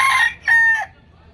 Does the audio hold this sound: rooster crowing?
yes